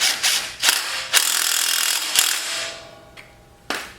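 A ratchet wrench with a 12 socket clicks through several quick bursts of pawl ratcheting while tightening a bolt during a car repair, close and fairly loud, with brief pauses between strokes and no talking.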